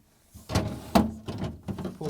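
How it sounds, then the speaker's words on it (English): Plastic freezer drawers slide out of a GE freezer with a few scraping, clunking knocks and rattles, fairly close and moderately loud, in quick irregular succession. "Now I'm going to remove the freezer drawers."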